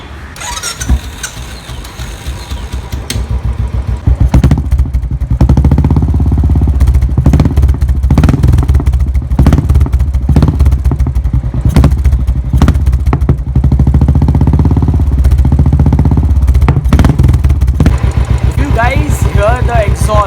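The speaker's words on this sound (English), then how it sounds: "Hear the exhaust, it's just giving the thump which Yash wanted" A Royal Enfield Bullet 500 fitted with a Gold Star exhaust starts and settles into a loud, close, steady thumping idle with occasional revs, while someone talks over it.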